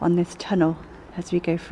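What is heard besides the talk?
None of the usual background noises is heard.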